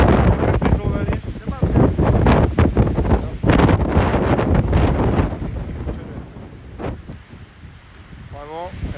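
Strong wind buffeting the microphone near a waterfall in Iceland in December, loud gusty roaring rumble that swells and drops, with a voice speaking briefly through it.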